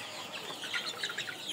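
A flock of roughly 46-day-old Sonali chickens on a poultry farm clucks continuously in a dense, overlapping chorus at close range.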